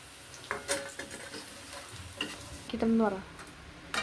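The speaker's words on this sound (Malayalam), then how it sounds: "അങ്ങനെ ഈ സാധനം ഈ പാവക്ക ഇങ്ങനെ ഈ ഇതിൽ വറുത്ത് കുറേ ഇട്ട് വറുത്ത് കഴിഞ്ഞിട്ടുണ്ടെങ്കിൽ" Bitter gourd fries in oil while being stirred: soft sizzling with several clinks and scrapes of a utensil against the pan, and a voice speaks briefly.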